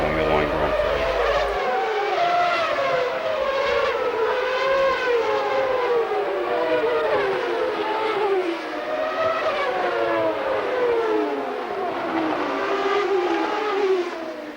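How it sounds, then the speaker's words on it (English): Formula 1 cars from 1994 warm up at the Adelaide Australian Grand Prix, engines screaming and rising and falling in pitch as they pass, a continuous loud wash of overlapping motors with announcer-style commentary on top. "as they warm up for the 94 Australian Adelaide Formula 1 Grand Prix"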